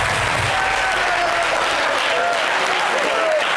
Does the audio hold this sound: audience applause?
yes